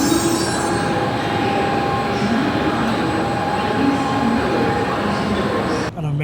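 Shinkansen bullet train running steadily on its way toward Tokyo, a loud, continuous rumble with wheel squeal and a sustained whine heard from inside a nearly empty carriage.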